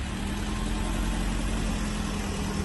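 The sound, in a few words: assault-style Bukhanka van engine idling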